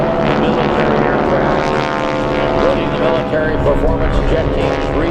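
Geico Skytypers propeller aircraft flying in formation at the 2017 New York Airshow: a loud, continuous droning engine roar with a wavering pitch, over a voice talking through a public address system.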